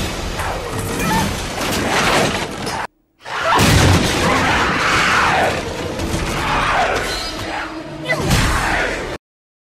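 Explosions ring out in a film scene where houses are burning, with loud booms, crashing debris and whooshing bursts in two long stretches separated by a brief silent gap.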